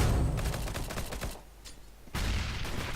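Counter-Strike gunfire, including a Negev machine gun, comes in rapid bursts of loud, close shots, drops to a brief quieter lull, then resumes heavily at the end.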